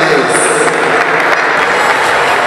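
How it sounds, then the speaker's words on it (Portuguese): Audience applause for two Muay Thai fighters at an Império MuayThai event, dense and continuous clapping from a crowd throughout, loud and close, with no pauses. "uma salva de palmas para esses dois guerreiros aí"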